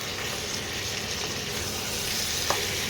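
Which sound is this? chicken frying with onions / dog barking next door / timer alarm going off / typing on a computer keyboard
chicken frying with onions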